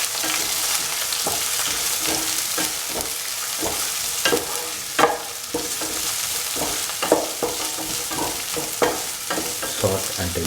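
Onions with cilantro, curry leaves, green chili and salt sautéing in a pan over high flame, a steady broadband sizzle with repeated clinks and scrapes of a stirring spoon throughout, close and fairly loud.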